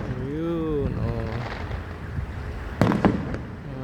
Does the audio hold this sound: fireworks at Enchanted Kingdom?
yes